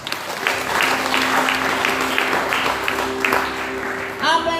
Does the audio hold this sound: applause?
yes